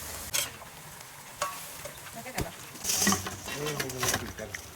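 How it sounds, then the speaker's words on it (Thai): Bananas fry in very hot oil, giving a steady sizzle broken by scraping stirs and sharp clacks of utensils, with voices faintly audible in the background. "ตอนนี้กำลังจะทอดเทสเทส มันจะต้องร้อนนะคะ เราจะต้องน้ำมันร้อนมาก"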